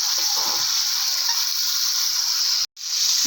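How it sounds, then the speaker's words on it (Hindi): Chicken pieces fry in oil in a karahi, giving a steady, close, loud sizzle and hiss that briefly cuts out, then resumes, with faint stirring beneath. "नमक शामिल करके आपने इसकी अच्छी तरह भुनाई करनी है और इसको काफ़ी हद तक फ्राई कर देना है"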